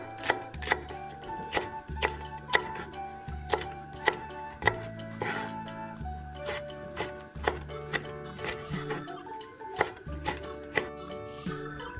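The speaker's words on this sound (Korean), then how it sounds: "대파와 청원고추는 송송 썰게" A knife chops spring onion and green chili on a board in a steady run of sharp, close, evenly spaced thuds, each a crisp knock, going on for several seconds with no speech.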